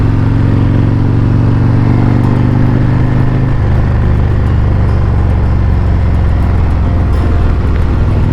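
Harley-Davidson Road Glide motorcycle with engine work done, riding on Tennessee backroads: a loud, close, steady low engine rumble that drops in pitch midway, like an upshift, continuing without talk.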